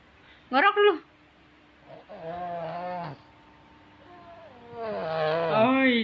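A voice imitates snoring in a playful children's game, with short rasping snore-like bursts among drawn-out vocal sounds and playful speech, fairly quiet and close.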